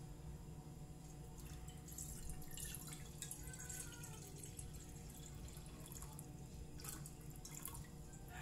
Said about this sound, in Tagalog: Ayan, lagyan po natin ng tubig na lang.